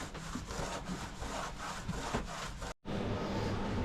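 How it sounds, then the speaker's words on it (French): Steady back-and-forth rubbing with a rag and acetone, scrubbing old putty and grime off a boat's plexiglass porthole frame on a Sigma 362 sailboat, rhythmic and close, broken by a brief pause before the rubbing resumes. "Ici, il y a des restes de crasse, de mastic, tout là autour, qu'on frotte avec de l'acétone."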